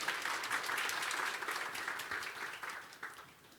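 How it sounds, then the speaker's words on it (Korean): An audience at a Hyundai Motor recruitment talk claps in welcome, a moderate round of applause that gradually fades toward the end, heard fairly faintly in a hall. "박수로 환영 부탁드리겠습니다"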